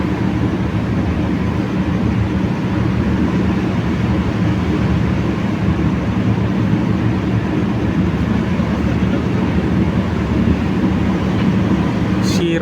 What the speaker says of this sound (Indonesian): Kereta api Argo Bromo Anggrek.